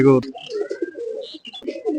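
Soft low cooing of Chuital pigeons, repeated throaty calls nearby, with a brief voice at the start.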